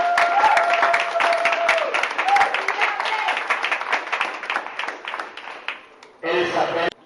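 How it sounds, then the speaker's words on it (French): Audience applause and cheering at an association gathering in Lausanne, sustained clapping with some crowd voices and a tonal element underneath, thinning out before a brief burst of other sound at the end. "Elle peut s'élever sous vos acclamations."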